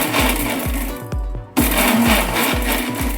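Mixer blender pulsed in short bursts to crush grapes for grape squash, a loud rhythmic chopping whir with regular beats, a brief pause midway, then resuming close and loud.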